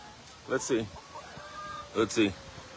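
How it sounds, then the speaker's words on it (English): Chickens at an urban farm give two close bursts of clucking, each a pair of throaty calls about a second and a half apart, moderately loud over a quiet background. "Oh, look at the beautiful chickens."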